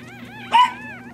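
Newborn puppies whimper close by, with thin, wavering high-pitched whines and one sharper, louder yelp in the middle, over a low steady hum.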